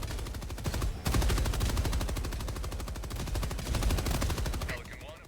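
A machine gun in Helldivers 2 lays down cover fire, a long unbroken stream of rapid evenly spaced shots, loud and close, with brief extra impacts near the end.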